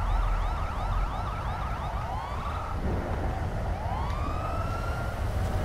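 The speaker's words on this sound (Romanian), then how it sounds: "Am lăsat sirenele aprinse în speranță că poate va ieși ceva." A police car siren left running at night cycles a rapid yelp into a slower sweeping wail. It is steady, loud and near, with no voices.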